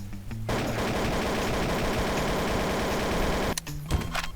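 Nonstop automatic gunfire in the game Garry's Mod, a dense, rapid stream of shots that runs loud and unbroken for about three seconds before cutting off abruptly, with a few scattered sounds after it.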